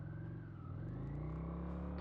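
A motorbike engine drones steadily while riding along the coastal and mountain roads of Okinawa, a continuous low hum with slight pitch shifts as the speed changes, close and even throughout.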